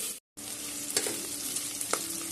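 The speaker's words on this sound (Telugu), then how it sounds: "పప్పు ఇట్లా వేయించుకొని చేస్తే ఇంకా చాలా టేస్ట్ ఉంటుంది కదండి, అందుకని వేయించుతున్నా." Dal being fried in ghee in a pan, a close, even sizzle with a few light stirring scrapes over about two seconds, briefly cut to silence near the start.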